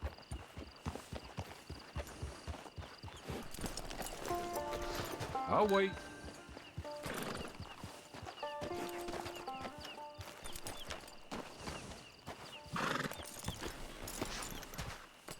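Steady clip-clop of horse hooves with a horse whinnying partway through in Red Dead Redemption 2, mixed with game music, clinking gear and a voice speaking briefly.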